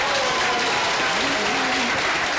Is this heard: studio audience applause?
yes